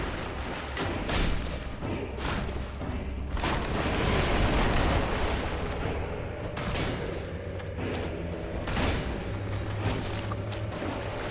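Explosions and heavy combat impacts in Dark Souls Remastered in the catacombs, a dense run of loud booming blasts and crashes, several big bursts in quick succession over a continuous rumble.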